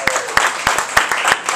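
Audience clapping at a comedy open mic in a bakery cafe, a small crowd giving sharp, rhythmic claps close by while someone talks over them.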